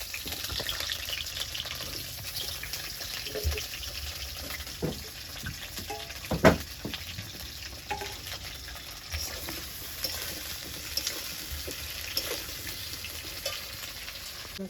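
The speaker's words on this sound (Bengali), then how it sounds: "কড়াই তেল দিয়ে এবার আলুটা ভেজে নেব" Potatoes fry in oil in a wok with a soft, steady sizzle and scattered stirring clinks. One sharper knock stands out in the middle, and the kitchen sound stays fairly quiet throughout.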